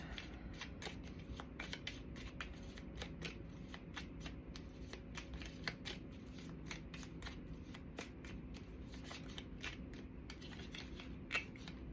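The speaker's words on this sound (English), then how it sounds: "we're having a problem shuffling with our fingers." Tarot cards are shuffled by hand in quick crisp riffles and flicks, a fast irregular run of sharp close snaps and rustles with no talking.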